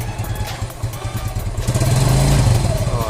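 A motorcycle fitted with a DIY oil cooler inside the airbox idles with a rough, lumpy chug up close, then is revved hard, the engine note climbing louder and higher before easing back.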